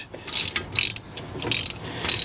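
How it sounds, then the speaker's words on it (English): A small ratchet clicks in quick bursts while loosening a brake caliper guide pin during a front brake pad change on an Audi TT mk1, with four short, close, crisp pawl rattles and no talk. "So that should now turn quite easily with the smaller ratchet, which it does."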